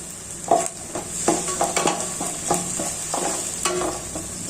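Ginger garlic paste frying with onions in a pan for mushroom biryani, a continuous sizzle broken by repeated spoon scrapes and metal clinks as it is stirred briskly, close by with no talking.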